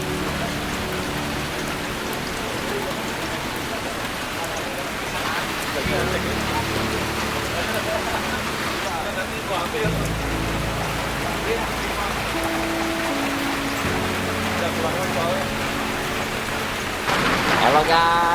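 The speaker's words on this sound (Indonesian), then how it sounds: "Ternyata hujan deras turun lebih awal dari perkiraan cuaca" Heavy rain pours steadily at a rest stop on a mountain hiking trail, a thick, continuous hiss over the whole stretch, with people talking and faint music in the background.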